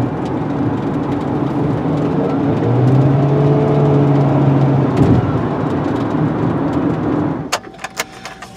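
A Jeep Patriot with a replaced crank sensor being driven, its engine giving a steady, fairly loud drone with a rising tone in the middle, then several sharp knocks and clicks near the end.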